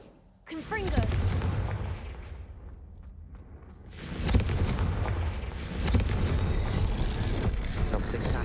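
Confringo explosion spells go off in a video game, with a sharp blast followed by a long rumbling roar, then two more heavy booming bursts that swell and linger loudly.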